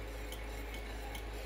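A spoon stirring sweetened condensed milk with clarified butter (ghee) in a bowl for a microwave marble cake batter: soft, close scraping strokes over a steady low background hum, brief and quiet.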